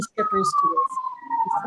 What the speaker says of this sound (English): Where is the sirens coming from? That's a fire truck behind me.